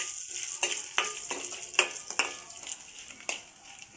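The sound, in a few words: dry-roasting dried red chillies, coriander seeds, cumin and garlic in a pan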